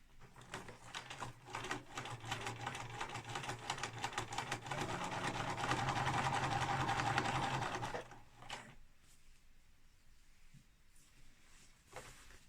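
A domestic sewing machine runs a steady, fast stitching whir while sewing a simple tote bag, loud and continuous for about eight seconds, then stops, leaving quiet room tone with a couple of faint clicks.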